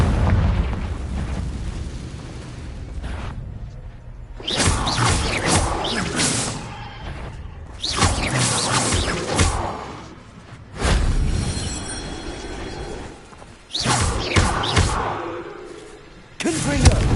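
Blasting spells explode repeatedly in the Hogwarts Legacy video game, deep booming bursts with crackling debris arriving in several separate heavy blasts, loud and close, with brief quieter gaps between them.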